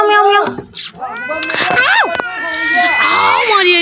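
A cat meows loudly and repeatedly up close, drawn-out wailing cries that rise and bend in pitch, with a short scuffle between calls.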